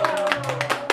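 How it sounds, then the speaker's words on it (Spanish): Brief burst of clapping at a mariachi birthday serenade, a quick patter of hand claps over a sustained musical tone, close and moderately loud. "¡Un aplauso!"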